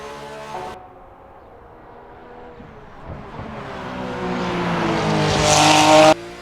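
A Porsche GT3 race car, the RSS Porsche in Assetto Corsa sim racing, revs loudly after a quick shift, its engine note climbing steadily in pitch and volume through a hard acceleration before cutting off abruptly.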